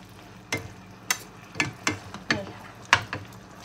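Squid being stir-fried with spring onions in a pan: a soft sizzle under about seven sharp scrapes and taps of a spatula, spaced roughly half a second apart, close and quiet, with no talk.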